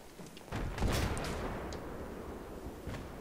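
Gunfire and blasts in the Battlefield 3 video game, a heavy boom near the start followed by a long rumbling tail, with a few faint distant shots later; no talk over it.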